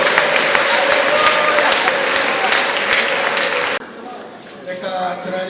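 A church congregation applauding, dense sustained clapping that fills the room, then cuts off abruptly, leaving quieter room sound and faint voices.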